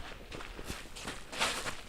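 Footsteps crunching through snow on a Manx winter's morning walk, a steady run of soft, close crunches repeating at walking pace with no talk over them.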